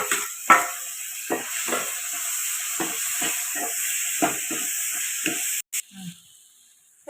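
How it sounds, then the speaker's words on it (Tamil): Onions and tomatoes sautéing in a pan for vegetable rice, a continuous sizzle broken by a series of sharp scraping stirs, close and alone, ending with a clatter and quieter sizzle. "தக்காளியும் சேர்த்து அதோடய வதக்கிக்குவோம்"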